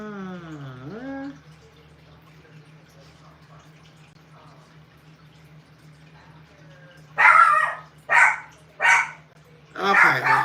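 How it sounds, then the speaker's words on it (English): Lily the dog lets out four loud, close barks in quick succession after a long quiet stretch, opening with a brief rising whine. "you gonna keep barking like that till Charles get here"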